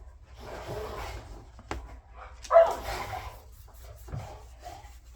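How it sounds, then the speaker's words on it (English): Dogs playing indoors make scattered yips, whimpers and scuffling noises at moderate distance, with a sharper louder burst midway, over a quiet room hum. "You hear the dogs?"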